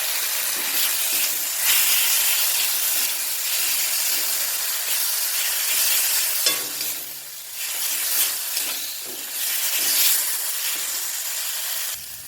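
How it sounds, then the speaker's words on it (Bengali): Spice masala for moong dal with fish head sautés in a pan with a spoonful of sugar and a splash of water, giving a loud, steady hiss and sizzle that briefly dips midway, with no talking. "সামান্য একটু জল দিয়ে মশলাটা কষিয়ে নেব"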